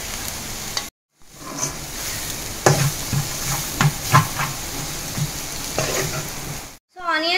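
Carrot and onion roast in a pan while being stirred, giving a steady close sizzle with scraping spoon strokes and one brief pause, for a street-style cutlet chaat.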